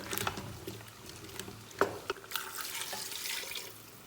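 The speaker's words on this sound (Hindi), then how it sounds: "अब मैं इसमें पानी डाल दूंगी" Water poured from a faucet-like stream into a pressure cooker holding fresh turnips for a Punjabi turnip and meat curry, a steady close splashing and trickling with a few small knocks, fairly quiet and with no talk.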